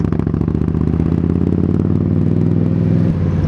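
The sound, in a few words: 2019 Indian Scout Bobber engine with aftermarket V Performance exhaust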